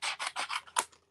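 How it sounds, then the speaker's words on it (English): Scissors are snipped and scraped close by in about five quick, rasping strokes, each a short burst, ending with a sharper metallic snip before quiet. "we're going to grab some scissors"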